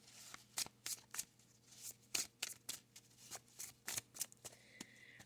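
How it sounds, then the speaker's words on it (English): A deck of playing cards is shuffled by hand in a series of quick, crisp riffling bursts, close up in a quiet room. "I'm going to put him back in and shuffle once again."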